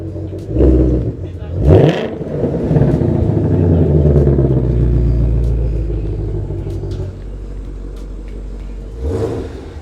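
A 2021 Ford Mustang Shelby GT500 sits close by with its engine idling in a deep, steady rumble, broken by a couple of sharp revs near the start and a further blip at the end, while people talk over it.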